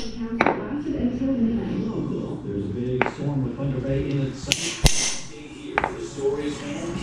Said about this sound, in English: I'm going to punch the middle of all the holes just so it's a lot easier to start the drill bit